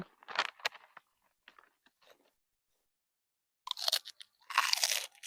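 Crunchy, airy pork cracklings are chewed up close, giving loud crisp bursts of crunching at the start and again near the end, with quiet pauses between bites.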